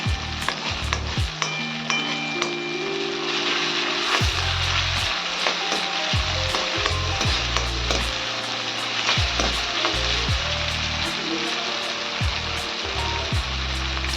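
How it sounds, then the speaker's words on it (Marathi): Ginger garlic paste fries loudly in a pan for dal khichdi, a dense, steady sizzle that runs throughout, broken by frequent sharp scrapes of stirring. "आता आलं लसूणची पेस्ट टाकू छान परतून घेऊयात"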